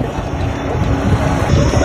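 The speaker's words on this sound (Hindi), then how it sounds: "विंडी नॉइस भी सुनने को मिल रहा होगा, क्योंकि जो यहाँ पे नॉइस है ना, हवा जो है बहुत तेज़ बह रहा है" Strong wind buffets a microphone outdoors in a market town in Bihar, India, a loud continuous low rumbling roar with no break for the whole stretch and no voices.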